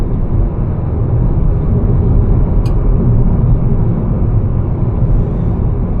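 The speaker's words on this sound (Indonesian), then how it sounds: "di dalam mobil lumayan berisik karena gesekan sama bannya lebih berisik" Steady low roar of car tires on coarse, rough asphalt fills the cabin during a road trip through Norway, a constant loud rumble with no talking.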